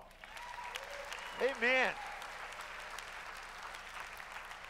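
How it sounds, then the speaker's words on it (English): A church congregation applauds at a sermon service, steady clapping running throughout while a voice briefly calls out over it midway. "Give her a round of applause."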